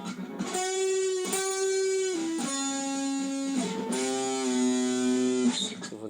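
Distorted electric guitar plays a melodic phrase, with picked sustained notes and a bend, loud and close, with no talk.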